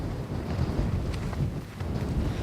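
Steady low rumbling buffet of wind blowing across a microphone outdoors at Stalojavri, continuous and fairly loud throughout, with no voices.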